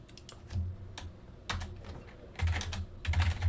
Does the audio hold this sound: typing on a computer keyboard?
yes